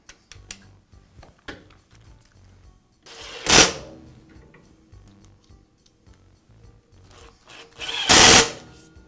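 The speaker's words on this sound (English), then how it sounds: "And I'll finish up by reinstalling the motor cap." Small clicks and plastic handling sounds while the motor cap is refitted on a DeWALT chop saw after replacing motor brushes, broken by two short, loud bursts of the saw motor whirring.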